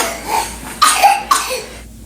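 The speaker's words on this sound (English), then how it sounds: "He purposely coughed in the baby's face just to get him sick as well." A child coughs directly toward a baby, two or three sharp, close coughs spaced out after a quieter breathy stretch, standing alone without talk.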